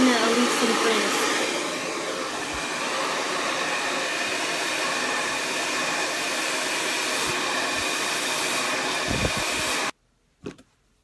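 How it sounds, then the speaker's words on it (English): A handheld hair dryer roars steadily and loudly while blow-drying frizzy, curly hair, finishing with a cool shot, then cuts off abruptly near the end, leaving a brief faint bump before silence. "hit it with a cool shot just to kind of cool it down and set the blow dry"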